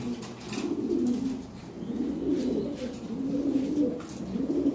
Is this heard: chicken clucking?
no